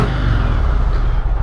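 A motorcycle engine revs a couple of times on an Outback Outlaw motovlog ride, heard as a loud, close, rumbling growl that swells briefly and stays dense through the short burst, with no talk.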